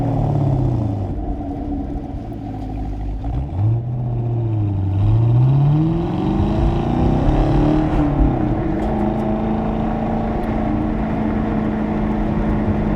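A 2017 Chevrolet Camaro SS 1LE's engine revs up and down repeatedly with active rev matching, a loud, steady close-up roar that rises and falls in pitch through gear changes.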